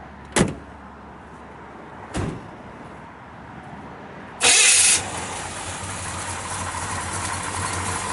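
A 1955 Chevrolet 210 two-door post with stainless headers and dual exhaust: two door thumps, then the engine cranks and catches in a loud burst and settles into a steady, rumbling idle.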